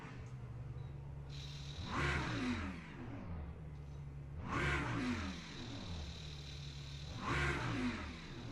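A Lamborghini Huracan with a 5.2-litre V10 in the racing game Le Mans Ultimate revs three times at a steady idle, each rise a sharp snarling blip that falls back smoothly, close and loud.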